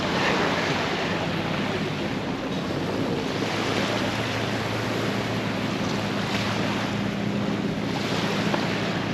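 Ocean surf washes continuously onto a Boracay beach, a steady, broad rush of breaking waves mixed with wind buffeting the microphone, with no talking.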